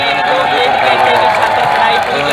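Sustained applause from a crowd gathered at a student hunger strike, honoring a doctor, a dense, even wash of clapping held at a steady loud level throughout.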